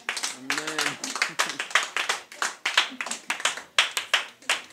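A church congregation claps in a steady rhythmic beat to acclaim Jesus, sharp repeated hand claps close and loud, with a voice briefly calling out near the start.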